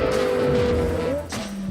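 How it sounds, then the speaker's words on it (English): A Porsche Carrera GT sports car drives by with a loud, continuous engine drone, its pitch rising and then dropping as it shifts, heard close over road and wind noise. "The Carrera GT still keeps you on edge and reminded that you're in a seriously powerful car"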